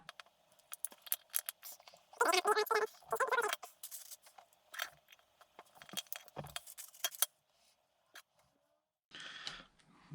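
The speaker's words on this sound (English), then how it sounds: "What I'm going to do is put 3 CM screws just in here." Screws being driven by hand with a screwdriver into the drive shaft of a Dodge Charger project car, heard as small metallic clicks and scrapes with a few louder rattling bursts and quiet gaps between.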